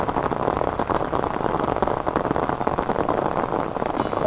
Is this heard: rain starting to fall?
yes